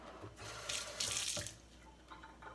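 Tap water runs into a canning jar for green beans, a soft splashing stream that swells and fades in short bursts, quiet and close.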